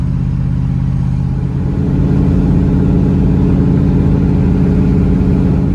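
A 1989 Range Rover Classic with a Rover V8 and a makeshift exhaust repair, its engine and exhaust droning loudly and steadily while driving, close and continuous with a deep rumble throughout.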